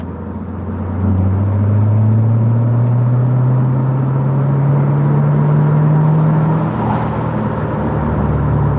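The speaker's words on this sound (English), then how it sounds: "Do you guys hear those downshifts?" Corvette C7 Z06 engine droning loud and close, its pitch climbing steadily over several seconds in a continuous run with no clear gear-change blips.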